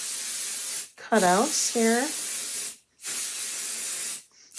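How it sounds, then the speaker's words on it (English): Pixie Spray light-tack adhesive hisses from an aerosol can in three close bursts separated by short pauses, with someone briefly talking over the second burst. "It's called Pixie Spray. It's a light tack."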